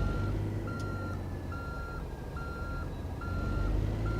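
A truck's reversing alarm beeps steadily, about six evenly spaced tones over a low idling engine rumble, while backing a trailer in the game American Truck Simulator.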